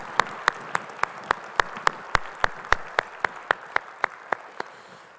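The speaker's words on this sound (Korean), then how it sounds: "우리 주님께 영광의 박수 올리겠습니다." A church congregation claps together in a steady, even rhythm, each sharp clap landing on the beat about four times a second, with no voices over it.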